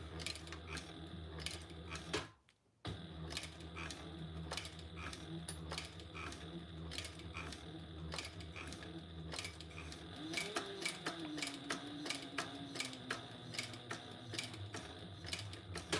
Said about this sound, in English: Have you guys ever seen me sew this slow?